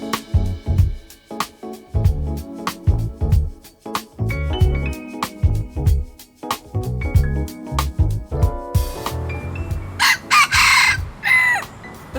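Chickens in Singapore cluck and a rooster crows. Rhythmic background music runs through most of the clip, and louder crowing and bird calls stand out near the end.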